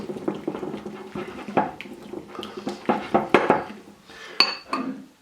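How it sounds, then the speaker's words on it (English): Frisco sauce ingredients, including red wine vinegar, onion salt, garlic salt and celery seed, are mixed in a bowl, with irregular clinks and wet scraping of a utensil, close and without voices. "We're just going to mix all of this up really well."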